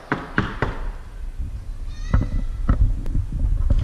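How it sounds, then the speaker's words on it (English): Knocks on a house door before a cooking visit with friends, a few sharp raps spaced across a few seconds, close and fairly loud over low background rumble, with no talking. "let me knock on the door"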